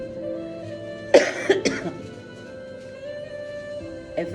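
An adult coughs during a Spanish-language Christian sermon, two or three harsh, close bursts in quick succession, followed by quieter room tone.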